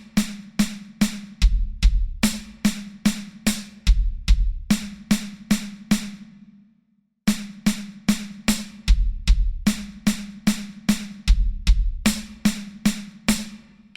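Rapid linear drum fill mixing snare strokes and bass drum kicks in a repeating phrase, played twice with a brief pause between.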